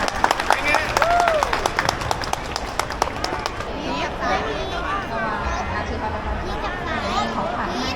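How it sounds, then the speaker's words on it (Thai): An audience at a kindergarten taekwondo performance at a public event claps for the children in a dense burst of applause, then settles into lively crowd chatter with voices talking over it. "ขอเสียงปรบมือให้เด็กๆด้วยค่ะ"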